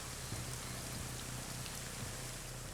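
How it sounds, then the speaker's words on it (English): Video game rain from a tactical shooter match pours steadily as an even, dense hiss, with a faint low droning hum beneath it. "All you hear is rain."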